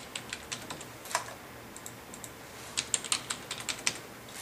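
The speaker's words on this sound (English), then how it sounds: "I will type the word testing." Keystrokes on a computer keyboard, a short burst of light, quick taps typing out one word, close and fairly quiet with no voices.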